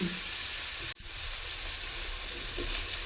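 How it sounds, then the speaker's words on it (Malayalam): Onions fry in a pan in a home kitchen, giving a steady, loud, close sizzle and hiss that runs throughout, with one very brief dropout and no speech. "ഉള്ളി വാട്ടലുണ്ടായിരുന്നു, അതൊക്കെ ചുവന്ന് നല്ലോണം ഉണ്ടിട്ടുണ്ട്"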